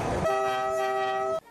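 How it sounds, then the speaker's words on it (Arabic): An old train travelling between cities in Cuba sounds a loud, steady horn blast lasting about a second over rumbling rail noise, then the horn cuts off abruptly. "تستطيع التنقل بين مدنه على متن قطار قديم."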